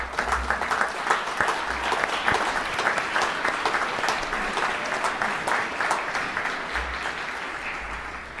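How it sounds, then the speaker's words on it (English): Sustained applause from a large graduation audience honoring honor society graduates, a steady dense wash of many hands clapping throughout without a break. "Let's give them a well-deserved round of applause for their excellent leadership both in and out of the classroom."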